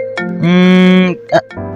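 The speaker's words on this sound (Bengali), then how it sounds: "কে যে অসময়ে ফোন করে।" Mobile phone ringing during a Bengali drama scene, a loud tonal ringtone phrase with rich harmonics, then a short blip and a softer tone, close and clear.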